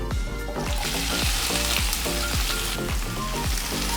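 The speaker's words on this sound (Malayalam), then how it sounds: "ഇനി നല്ല ബ്രൗൺ കളറാവുന്നത് വരെ നന്നായിട്ട് വഴറ്റിയെടുക്കാം." Sliced onions sauté in sunflower oil for a Punjabi-style rajma masala, giving a steady, close sizzle with repeated soft thumps and scrapes of stirring throughout.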